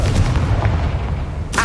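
A Confringo fire spell bursts in the Hogwarts Legacy video game, a loud booming blast over steady game rumble, followed by a sharp bright crack near the end.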